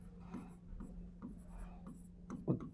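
Chalk or marker strokes on a classroom board come in a quiet, rhythmic series of short scratchy taps and scrapes, ending in a firmer stroke, with a low steady hum underneath.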